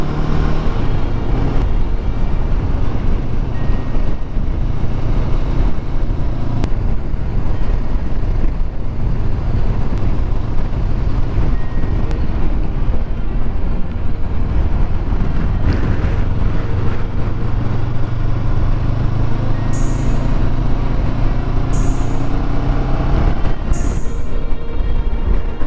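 A steady drone from a Honda CB500X motorcycle engine comes through heavy wind buffeting while riding on a road past a village. The roar is constant and loud, with a few faint short beeps near the end.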